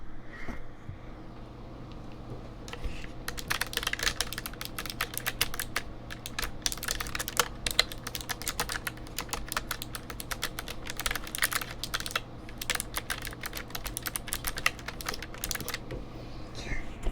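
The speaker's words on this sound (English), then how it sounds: "this is what my keyboard sounds like" Rapid, continuous typing on a computer keyboard, close and clear, with dense irregular key clicks over a faint steady hum.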